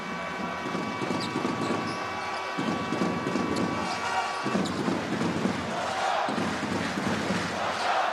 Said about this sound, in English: the crowd are certainly starting to become a factor in this game